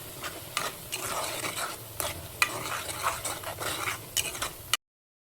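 A spoon stirs rajma curry puree mixed with turmeric in a pan, rhythmic scraping strokes over a soft sizzle, close and fairly quiet, stopping abruptly.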